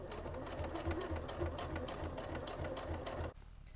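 Sewing machine stitching a rolled-up seam on Closet Core Fran pyjamas, a steady close mechanical whirr with a pulsing stitch rhythm running continuously before cutting off near the end.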